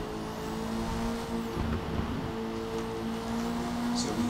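A 1991 BMW M3 E30 drift build in the Forza racing game gives a steady, fairly quiet engine hum with a slight rise in pitch, heard alone without speech.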